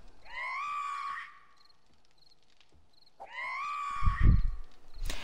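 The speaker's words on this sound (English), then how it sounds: "Do you hear a screaming?" Screamer zombie in 7 Days to Die lets out two long, wavering shrieks, the second followed by thumping noise and a sharp burst at the end, with a quiet gap between them.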